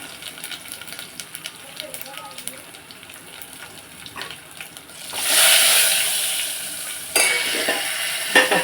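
Cumin seeds and garlic tempering in hot oil for moong dal, starting as faint background under kitchen sounds before a loud sudden sizzle bursts up midway and keeps crackling steadily, with a second surge near the end.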